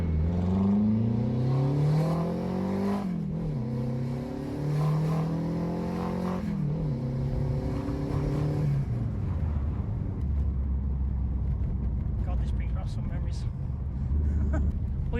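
A Renault 5 GT Turbo engine runs close by, rising and falling through several hard revs in the first half before settling into a rougher, steadier running note.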